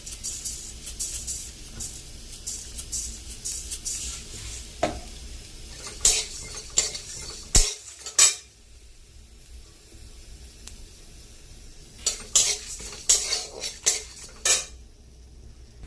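Cumin seeds fry in a pan while a metal spoon stirs and scrapes, with a soft sizzle underneath and bursts of clattering strokes against the pan, a quieter lull midway, then more scraping.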